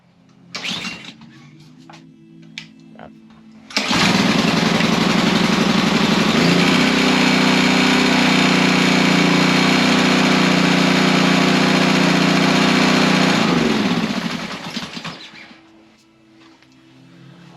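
A Honda pressure washer engine catches after a brief pull and runs loud and steady for about ten seconds, then winds down and cuts out, with faint handling noises before and after.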